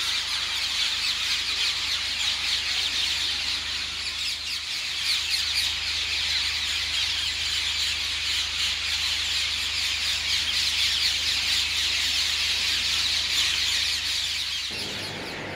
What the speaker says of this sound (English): Here I'm back at the parakeet roost.